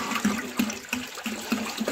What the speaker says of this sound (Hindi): देखो ठंडा पानी डाला जा रहा है अभी।